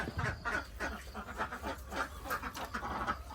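Laying ducks quack steadily on an egg farm in rural Isan, Thailand, a dense overlapping chorus of calls from a nearby flock with no talk.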